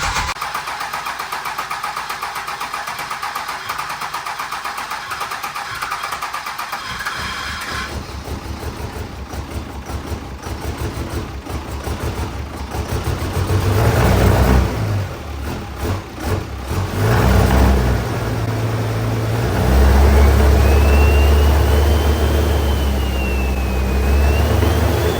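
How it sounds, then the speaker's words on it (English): A large Cummins diesel engine in a second-generation truck cranks and sputters on its first start, then catches and roars into a loud, rough idle that revs up and settles, close by, popping from the exhaust. "the first start did not go very well. It was popping like crazy out of the exhaust"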